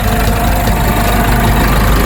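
A 2021 Isuzu Spacecab pickup with a 1.9 Blue Power 150-horsepower diesel idles close by, a steady low rumble with a faint knocking texture and no voices over it.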